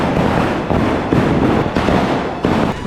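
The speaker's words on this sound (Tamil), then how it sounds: "டேய் இது நாட்டு வெடி." Loud, close bursts of nattu vedi country firecrackers going off during Diwali, several sharp cracking blasts in quick succession with a dense rumble between them.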